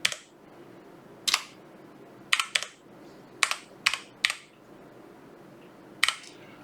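Computer keyboard keys pressed as a folder name is typed, about seven sharp, close clicks spaced irregularly over a quiet background, no talk.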